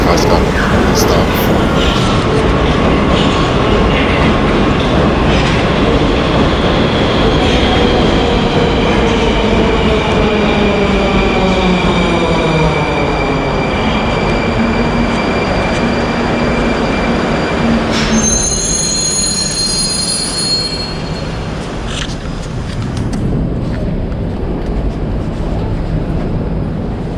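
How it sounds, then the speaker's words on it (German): Moscow metro train running with a steady loud rumble, wheels squealing in long rising and falling tones, and a sharp high screech near the end. "Da irgendwo hinten kehrt die Metro."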